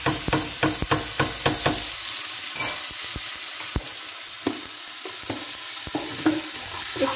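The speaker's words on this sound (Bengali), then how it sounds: "একটু মশলাটাকে নাড়াচাড়া করে নেব" Ginger paste and spices frying in a pan are stirred with a spatula, giving quick scraping taps in a rapid run at first and then sparser ones over a steady, close sizzle.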